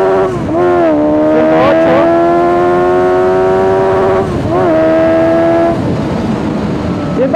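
A 2018 Suzuki GSX-S 750 motorcycle revs hard through the gears while accelerating from 0 to 100, its loud rising engine whine dropping sharply at each shift, with a single spoken number partway through.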